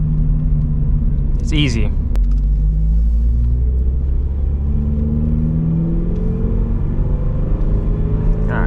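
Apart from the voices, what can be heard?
Subaru BRZ manual car driving in second gear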